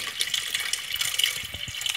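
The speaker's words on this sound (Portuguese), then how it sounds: "Colocar água aqui na panela de pressão, né, amores?" Water runs steadily into a pressure cooker pot, a continuous bright splashing gush at moderate volume with no voices.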